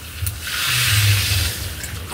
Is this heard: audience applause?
no